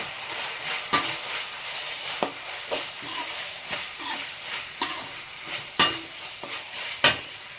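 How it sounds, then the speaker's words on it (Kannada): Spices with turmeric powder are stirred in a sizzling frying pan for hotel-style paneer fried rice, a steady fry hiss punctuated by irregular scraping spoon strokes and soft clinks, close and without talking. "ಈಗ ಮಿಕ್ಸ್ ಮಾಡ್ಕೊಳ್ಳೋಣ. ಸ್ವಲ್ಪ ಟರ್ಮರಿಕ್ ಪೌಡ್ರನ್ನ ಸೇರಿಸ್ಕೊಳ್ಳೋಣ"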